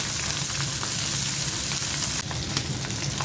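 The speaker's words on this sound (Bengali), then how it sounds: "হালকা করেই ভাজবো" Pabda fish fry lightly in a pan with a close, even sizzling hiss that runs without a break.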